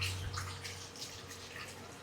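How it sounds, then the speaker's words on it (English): Water pouring steadily into a blender jar of grains for kunu zaki, a short continuous splashing rush, fairly faint and close, with no talk. "Adding water."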